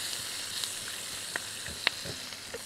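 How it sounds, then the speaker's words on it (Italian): Friggitelli peppers, small and thin, frying briefly in oil in a pan, giving a steady soft sizzle with a few faint clicks and stirring taps, close and quiet with no talk. "Fateli cuocere pochissimo, perché sono talmente sottili e piccoli che ci vuole pochissimo."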